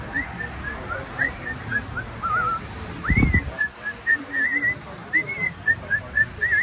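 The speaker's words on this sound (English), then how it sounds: "We're having a little whistle off right now." Short whistled notes trade back and forth in a light, playful melody, with a brief low thump partway through.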